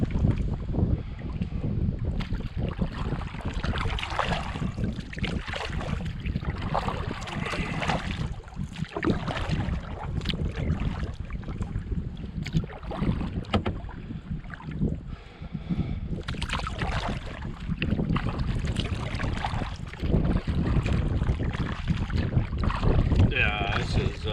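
Strong, constant wind gusting across a wilderness lake in the Boundary Waters canoe area, buffeting the microphone with a loud, rough roar and faint water sloshing against the canoe, steady for the whole stretch.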